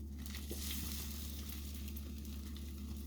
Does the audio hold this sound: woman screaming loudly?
no